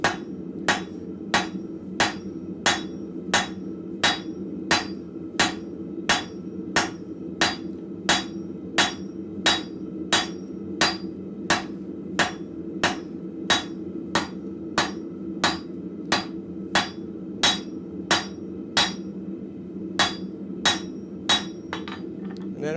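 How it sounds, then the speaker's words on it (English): A blacksmith hammers hot steel with the flat face of a cross peen hammer to spread a forged head, sharp ringing blows landing at a steady, even pace about once a second, loud and close, over a constant forge roar. "Now to forge the head, we're going to go straight down with the flat side of our cross peen"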